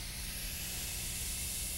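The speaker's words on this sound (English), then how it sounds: "it makes a lot of noise fizzing as all the gas comes out of solution" Steady, continuous fizzing hiss of gas escaping from liquid, close and fairly loud, with no voices.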